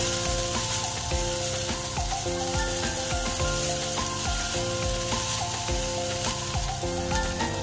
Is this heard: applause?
no